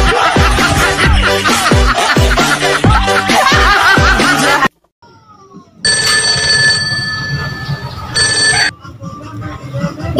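A phone ringtone sounds in a comedic skit, sustained steady electronic tones lasting about three seconds, following a burst of laughter and music and a brief silence, with quieter background afterward.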